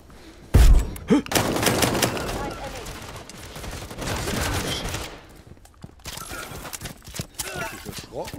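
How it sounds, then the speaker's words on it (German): Shotgun blasts and automatic gunfire in the multiplayer shooter Firewall Zero Hour, a sharp loud shot early followed by scattered bursts, with talk in between and quieter stretches later. "da stand gerade einer vor mir und hat mir mit der Pumpgun ins Gesicht geschossen"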